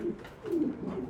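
Heavy pigeons of the Roman and King breeds cooing close by, a soft low throaty coo rising and falling in a couple of short phrases with no talk.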